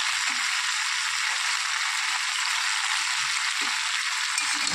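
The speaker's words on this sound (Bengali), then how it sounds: "একসাথে মশলাগুলো কষিয়ে নেব।" Ground paste of ginger, dried and green chilli with cumin powder fries alongside potato and elephant foot yam, giving a steady, even sizzling hiss with no talking.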